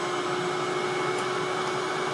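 A Player-Care vacuum pump kit running at its full 75 vacuum level, giving a steady, even motor whir with a constant hum tone, unbroken and moderately loud for the whole stretch.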